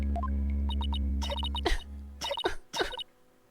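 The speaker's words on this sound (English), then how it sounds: "every time she coughs, that's when she's hiding something" A woman coughs and clears her throat in a courtroom-style mystery game, with several short bursts spaced through a few seconds over a steady low background hum.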